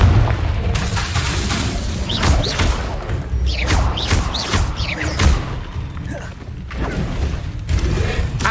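Confringo fire spells burst repeatedly during Hogwarts Legacy combat, with a string of booming explosive hits and crashes over a dense, continuous game soundscape.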